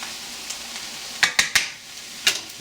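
Ground beef sizzling in a pan with a soft steady frying hiss, broken by a few sharp clicks and scrapes of a utensil stirring the meat.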